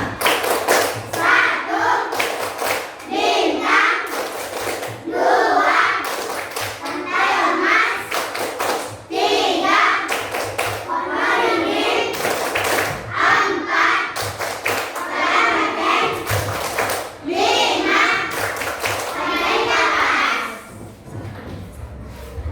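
Children in a classroom perform the rhythmic Tepuk Pancasila clapping chant, sharp claps in repeated patterned bursts mixed with chanting voices, loud and close, continuing for the whole stretch before stopping near the end.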